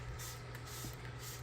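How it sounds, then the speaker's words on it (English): A spray bottle mists Java fern and other plants in a guppy aquarium, giving faint, soft hissing puffs in a few short bursts over a low background hum. "I'm going to spray this down again."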